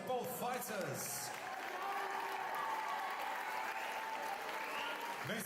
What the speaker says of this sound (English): Ladies and gentlemen, round of applause please for both fighters.